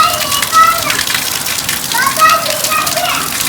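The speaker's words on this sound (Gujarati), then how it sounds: "જો ઈકણ જબરજસ્ત ચાલી રહ્યો નોકરીના ટાઈમે વરસાદ આવી ગયો" Heavy monsoon rain pours outside a home during working hours, a steady hiss of drops on surfaces underneath a voice and an adult talking nearby.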